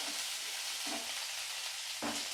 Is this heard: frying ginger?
yes